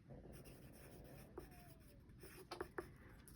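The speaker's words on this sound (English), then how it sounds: "I just write it down" Pen scratching across paper to jot down a row count while knitting a fashion doll bag, a few short quiet strokes with small taps near the end, close and faint against room hiss.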